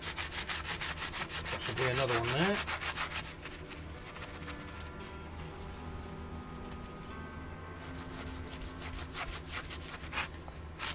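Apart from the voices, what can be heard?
sanding a caravan wheel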